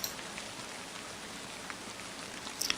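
Steady rain falling in a visual novel game, a soft, even hiss of drops with a few sharper taps standing out and a brighter patter near the end.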